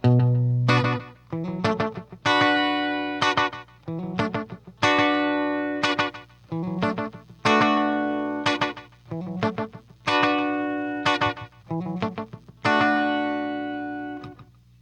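Clean, uncompressed electric guitar through a Catalinbread Belle Epoch tape echo, bursts of strummed chords in a loose rhythm, each trailed by ringing tape-echo repeats, fairly loud with no voices.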